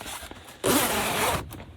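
A fabric window screen on a 1989 Volkswagen Westfalia camper van is zipped in one quick, close, rasping pull of just under a second, with quiet interior sounds before and after.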